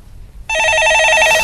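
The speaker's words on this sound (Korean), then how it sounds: "자, 전화 받아보겠습니다." A telephone rings loudly and steadily on a stock-market call-in broadcast, a bright electronic trill starting abruptly after quiet studio air, just before a caller is answered.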